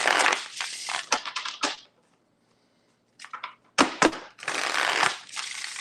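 Tarot cards shuffled by hand in several quick riffling bursts, close and crisp, separated by short pauses of near silence.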